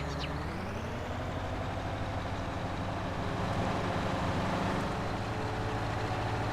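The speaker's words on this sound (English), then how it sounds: "The engine sound for the actual tractor itself when it moves sounds slightly different" A tractor with a Detroit engine in Farming Simulator 19 rumbles in a steady, low, continuous drone that swells slightly midway, with no talking.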